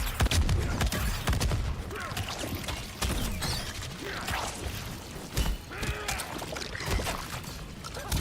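Missiles launch in a fighting video game, a busy clatter of whooshes, mechanical clicks and rapid bursts that runs steadily with no voices.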